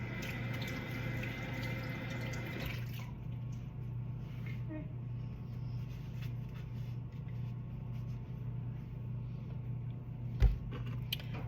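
A pomegranate is rinsed under a running tap, giving a steady, close stream of water that rushes evenly throughout with a brief clatter near the end.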